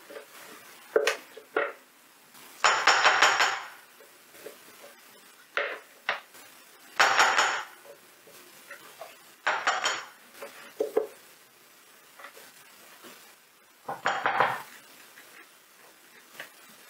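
Whisk or spoon mixing vegan, gluten-free and lactose-free crêpe batter in a bowl, giving several short scraping, clinking bursts separated by pauses, close and alone without talk.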